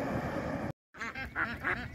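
A flock of ducks quacks on a road in Vietnam, several overlapping calls rising close by after a brief dropout in the sound, over low background rumble.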